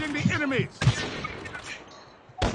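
In the mobile game Call of Duty Mobile, a sniper rifle fires in a few sharp, quick cracks within a brief burst, with excited voices talking over the game sounds.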